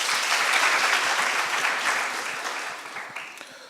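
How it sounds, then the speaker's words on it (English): An audience at a high school debate competition applauds, a dense, loud wash of clapping that slowly fades toward the end. "Give them a round of applause."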